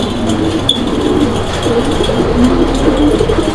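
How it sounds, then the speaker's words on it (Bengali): Jacobin pigeons coo in a steady, low, continuous rolling call close by, heard alone with a faint background hum and no talking. "তো বন্ধুরা ওর ডাকের ঝুলটা আমি কিন্তু দেখাই দিলাম, মানে ডাকার সময় যে ঝুলটা নামে আপনারা দেখছেন"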